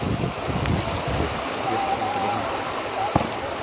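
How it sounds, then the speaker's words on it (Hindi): River water rushes near a wooden pile bridge in Bihar, a steady broadband wash of flowing current that continues without a break, with a faint tonal whine and a single click partway through. "तो इस तरह की लहर की जो यहाँ आप सुन रहे हैं"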